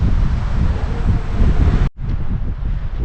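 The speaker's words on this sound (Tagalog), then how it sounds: "Lakas ng hangin guys." Strong wind at a hilltop campsite in Malico, Pangasinan roars and buffets the microphone continuously, with a brief dropout near the end before the gusting rumble resumes.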